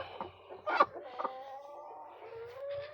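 A hen clucks in short, irregular bursts in an egg-laying area on a farm, close and moderately loud, with one sharper squawk partway through and softer low calls trailing off.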